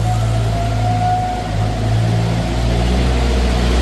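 The engine of a 2014 Moffett M55 truck-mounted forklift running while it drives, a loud, steady low drone with a thin whine above, dipping briefly midway before holding even.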